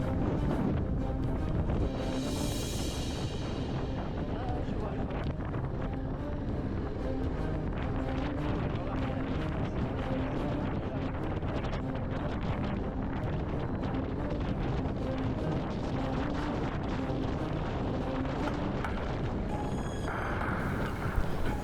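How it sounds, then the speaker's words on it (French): Strong wind buffets the microphone on a hilltop during a maxi-trail motorcycle ride through the Corbières, a constant loud roar and rumble lasting throughout. "Mais le vent commence à souffler fort"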